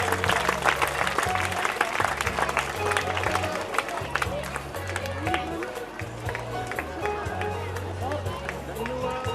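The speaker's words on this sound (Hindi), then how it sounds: "जोरदार तालियां बजती रहनी चाहिए इन बच्चों के लिए" Crowd applause at a school annual day celebration, sustained dense clapping over a steady rhythmic music beat, loud and continuous with some babble in the mix.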